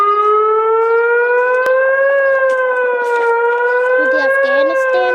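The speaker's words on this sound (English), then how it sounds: "we are going to rate EAS alarms" An Emergency Alert System alarm sounds as a loud, steady wailing siren tone with layered harmonics that slowly drifts in pitch, and a voice can be heard faintly underneath.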